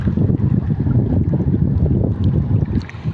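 Fast, deep floodwater tears past a flooded village in a steady, close roar of rushing water with heavy low rumble and wind buffeting the microphone throughout.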